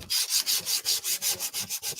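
Steady back-and-forth rasping of 320 grit sandpaper on wood, about a dozen even strokes in a quick regular rhythm, close up with no talking.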